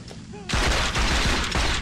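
Rapid gunfire in Saints Row 2 erupts after a short pause, a loud cluster of repeated shots that carries on to the end, with a voice briefly audible beforehand.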